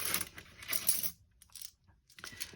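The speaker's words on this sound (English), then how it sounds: "Just excuse me a minute for the noise of the coins" Metal coins are handled and dropped during cash envelope budgeting, giving bursts of bright clinking and jingling. A quiet pause follows before more coins clatter near the microphone.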